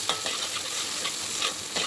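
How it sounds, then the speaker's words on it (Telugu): Ginger garlic paste fries in a pan with a steady soft sizzle, broken by scraping stirs that come at an uneven rhythm, close by and moderately loud, with no talking. "అల్లం వెల్లుల్లి పేస్ట్ పచ్చి వాసన పోయేంత వరకు కలుపుతూ ఉండాలి"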